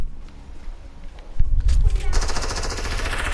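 Rapid bursts of gunfire from a weapon in the Fortnite video game, loud and dense from about the midpoint onward over a rumbling low mix, with a voice talking under it.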